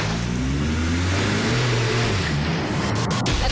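A car accelerates away at a street robbery, its engine droning loud and steady with rising harmonics throughout, a few sharp clicks near the end.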